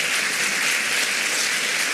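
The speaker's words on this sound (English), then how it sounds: "can we have another round of applause for Director Amir?" Steady, dense applause from a conference audience fills the whole stretch, loud and even without pauses, with no voices standing out.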